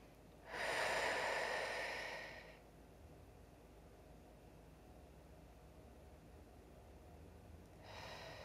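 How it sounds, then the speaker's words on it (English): One long, loud breath drawn in through the nose then out through the mouth, followed after a quiet gap by the start of another breath, during a calm energy balancing class. "And still breathing in through the nose and out through the mouth."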